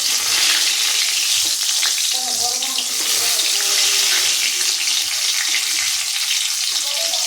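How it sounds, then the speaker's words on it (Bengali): Whole garam masala spices, cinnamon, cardamom and bay leaves, frying in hot oil in a wok for veg biryani, giving a steady, close hiss throughout with faint low thumps beneath. "এখন আমি কড়াতে তেল বসিয়ে দিয়েছি। দিয়ে দিচ্ছি গরম মশলা, দারচিনি, এলাচ আর তেজপাতা।"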